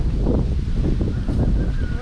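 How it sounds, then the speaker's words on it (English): Gusty wind buffets the microphone outdoors near beehives, a steady low roar with continuous rumble and no clear breaks across the short stretch. "it's getting too windy"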